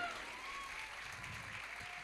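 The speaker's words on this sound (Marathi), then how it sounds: "या परफॉर्मन्ससाठी 5 मिनिट सलग टाळ्या वाजल्या पाहिजेत" Audience applause at a school annual concert, a steady wash of clapping that stays fairly faint and even for about two seconds.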